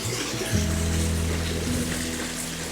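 Drinking water pouring into a container at a filling point, a continuous trickling flow with a rising tonal hum as the vessel fills, heard up close and alone.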